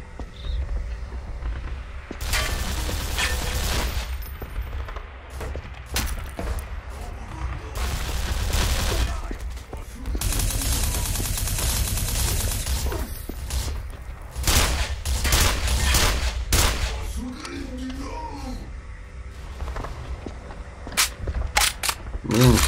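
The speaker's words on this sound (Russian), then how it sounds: "Да кто в меня стреляет, вы чё?" Enemy gunfire rattles through a firefight in the video game E.Y.E: Divine Cybermancy, dense bursts of shots and booms continuing throughout, with someone talking at times over the noise.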